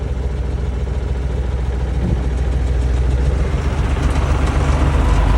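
A T-30 VTZ-2048A small two-cylinder tractor engine runs steadily at close range, a loud continuous low chugging drone with no talk over it.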